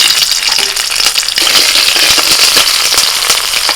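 Nigella seeds and slit green chillies hit hot oil with a loud, dense crackling sizzle that spits and pops continuously throughout, close and vigorous with no voices.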